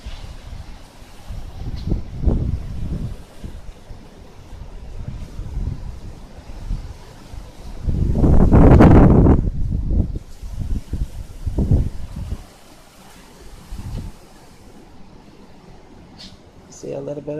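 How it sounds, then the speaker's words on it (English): Strong gusts of Hurricane Irma buffet the microphone in Orlando, Florida, with a roaring surge in the middle amid outdoor ambience, and a person speaks intermittently. "What a powerful storm."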